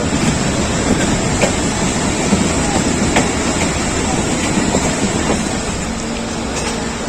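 Pakistan Railways non-stop passenger train running between Hyderabad Junction and Kasur, a steady loud rumble of wheels and carriage noise with faint rail clicks throughout, no talking.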